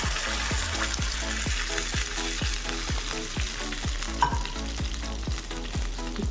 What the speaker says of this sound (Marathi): सगळी फोडणी व्यवस्थित आपण मिक्स करून घ्यायची आहे